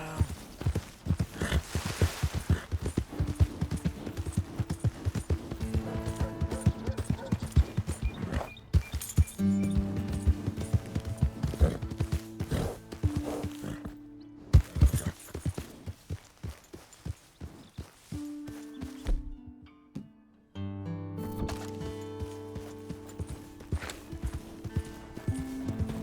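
Horse hooves galloping in Red Dead Redemption 2, a steady rapid clip-clop running the whole stretch under a game music score, with brief dropouts partway through.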